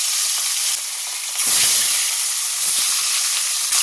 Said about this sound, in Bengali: চলো মাছ কটা ভেজে নিই